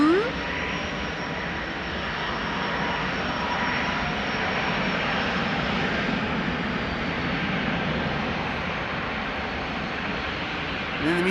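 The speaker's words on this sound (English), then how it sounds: "This is Swiss to Zurich, a Bombardier C-Series 300," A Swiss Bombardier C-Series 300 (Airbus A220) jet departs Amsterdam Schiphol bound for Zurich, heard as a steady, loud, broadband engine roar that holds evenly from start to finish.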